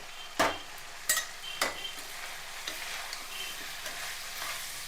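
Egg curry masala with chilli powder fries in oil in a pan, a soft steady sizzle broken by a few sharp scraping stirs of a utensil near the start.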